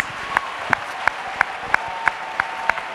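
Rhythmic clapping, evenly spaced and steady, rises from an audience at a national Bible camp gathering, with loud, sharp claps repeating about three times per second.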